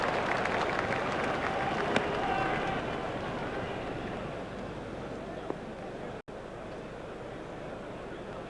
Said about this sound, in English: The crowd were brought to their feet by that shot.